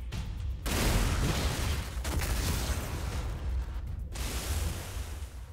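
Creatures blow up in the video game Tokyo Ghoul:re Call to Exist as loud, rumbling, broadband blasts that run almost continuously, with brief dips between bursts.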